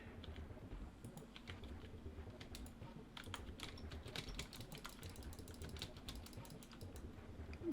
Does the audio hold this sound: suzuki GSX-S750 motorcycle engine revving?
no